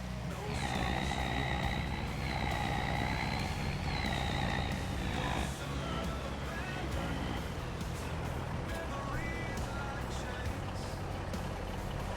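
Truck engine in a farming video game on the Ponderosa map, a steady low drone running throughout with rising and falling tonal whine and a few short beeps, fairly loud and continuous.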